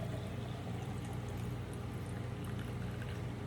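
A soft, steady trickle of blended aloe water with honey being poured into a quart-sized glass jar, continuous and fairly quiet, with no talking.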